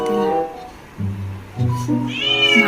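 A pet cat meows repeatedly at close range, several drawn-out harmonic cries in a row, the last rising higher and more insistent, asking for attention and food indoors.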